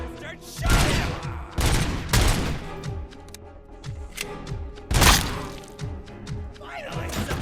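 Rapid bursts of gunfire from the video game RoboCop Rogue City crack out loudly in clusters of sharp shots, mixed with impacts and shattering debris, with some voices in between.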